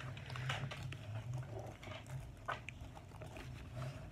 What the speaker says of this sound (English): That's just my dog.